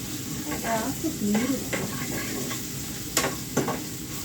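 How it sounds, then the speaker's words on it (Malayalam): Ginger and garlic frying in hot oil with mustard seeds, a continuous sizzle with scraping stirs and a couple of sharp clinks near the end. "നമ്മൾ ഇഞ്ചിയും വെളുത്തുള്ളിയും കൂടെ ഇട്ട് കൊടുത്തു"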